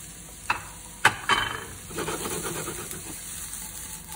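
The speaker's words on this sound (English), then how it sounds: "we fry now one by one of these vegetable cubes what I made before. Start with the mushrooms." Mushroom cubes fry in a pan for a ratatouille, with a few sharp stirring knocks early on giving way to a steady, moderate sizzle that carries to the end.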